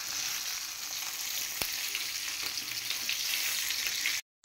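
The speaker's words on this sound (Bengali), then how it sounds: "মাছ ভাজা তোলার পরে যে তেল ছিল সেই তেলের মধ্যে আমি আবার রান্নার জন্য মশলা কষায় নিলাম।" Spices frying in oil left from frying fish, a dense loud hiss of sizzling close up with a single sharp clink, steady throughout until a sudden cut at the end, no speech.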